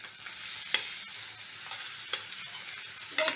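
Potato pieces dropped into hot oil in a pan while cooking samosa filling, sizzling and frying steadily with a few sharp clinks and scrapes of a spoon stirring, close up and with no talking.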